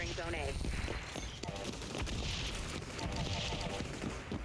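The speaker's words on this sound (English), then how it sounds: "That guy threw a grenade at us." Gunfire and grenade blasts in the video game XDefiant, dense rapid shots and booms layered into a continuous busy battle din at moderate level, with a player's voice talking over it.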